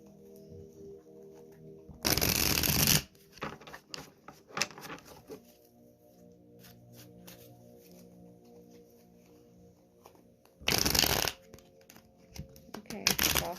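Tarot cards riffle-shuffle in two sharp, loud bursts about a second long each, separated by quieter handling and a voice speaking softly.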